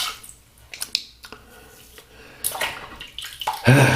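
Water splashes and runs while shaving soap is rinsed off, irregular sloshing and dripping close by that builds into a louder rush of water at the end.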